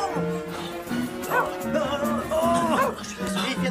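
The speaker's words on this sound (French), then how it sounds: "Ce chien est un danger public!" A small dog yips and barks excitedly in short, uneven bursts, fairly close, with a person's voice mixed in around the noise.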